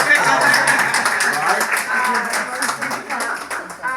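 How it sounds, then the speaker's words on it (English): An audience at a women's business breakfast panel bursts into clapping, loud and dense at first, then thinning and tapering off over a few seconds. "I do want to pause. Yes, to clap."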